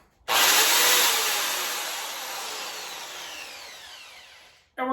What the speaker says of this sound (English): So we do have our mixer blade and our power drill.